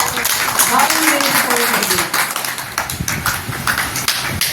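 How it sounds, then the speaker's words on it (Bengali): An audience claps at a yoga demonstration, a dense rapid patter of many hands, loud and close, continuing steadily with voices mixed in. "হাততালি দাও সবাই"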